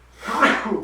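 A single close sneeze, building from a sharp inhale into an explosive burst, then tapering off.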